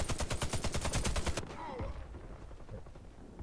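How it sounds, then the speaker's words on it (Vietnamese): A gun in the console shooter Warface on PS4 fires a rapid, evenly spaced burst of loud shots for over a second, then stops abruptly, leaving quieter game ambience. "Bọn này bắn súng bắn tỉa ác thế"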